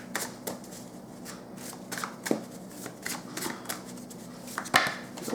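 Small handwritten cards shuffled by hand, a steady run of soft papery riffles and taps, close and quiet, with no voices.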